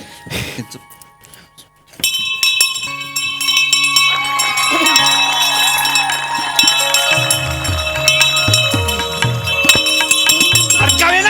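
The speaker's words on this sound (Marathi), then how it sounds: "मी अशीच वाजवतो घंटा" A hand bell rings on a comedy stage, its bright, sustained metallic tones filling the air after a short pause, with overlapping ringing that layers over lower tones.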